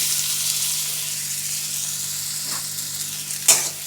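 Chopped onion and six cloves of garlic fry in butter, making a steady bright hiss with a low hum beneath and a sharp tap near the end. No one talks.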